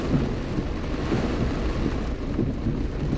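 Thunder rolls as a deep, continuous rumble beneath steady rain drumming on a car while driving near southwest Philadelphia, a dense, even wash of sound with no voices.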